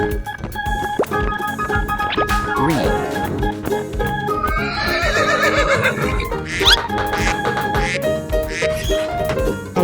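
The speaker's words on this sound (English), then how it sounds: "Horse." A horse neighs and whinnies as a sound effect in an animal-sound guessing game, rising over a dense, steady bed of music that runs the whole time.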